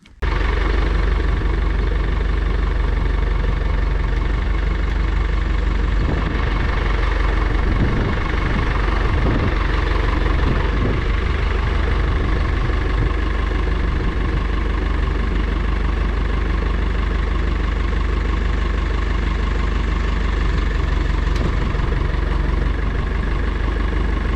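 A Kubota tractor engine idles nearby, a loud, steady low-pitched drone that holds evenly throughout with a few faint knocks and clanks in the middle.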